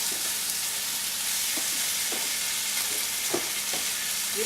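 Oil sizzling loudly in a hot stir fry pan, a dense, constant hiss with a few soft clinks and pops scattered through it, close and unbroken.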